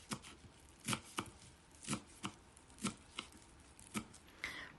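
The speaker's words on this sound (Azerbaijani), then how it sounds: "Bir dəstə cəfəri, bir dəstə nanəni də xırda-xırda doğrayıram." A bunch of parsley and mint being finely chopped with a knife: a steady run of about ten sharp board taps at a relaxed, even rhythm, close and clear, with no voices.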